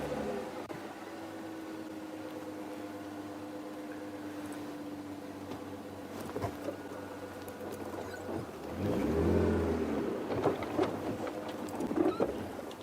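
A safari vehicle on a sunrise game drive pulls away at speed, its engine droning steadily before revving louder and rougher as it accelerates, with rattling and bumps over the track.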